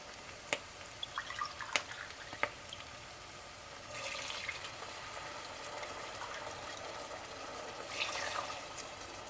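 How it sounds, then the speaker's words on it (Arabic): Water pours into a cooking pot as part of a kubba soup with turnip, starting with scattered drips and splashes, then a soft, steady running stream in two longer spells, faint and close, with no talk. "راح اضيف المي، راح استعمل 1 كاب"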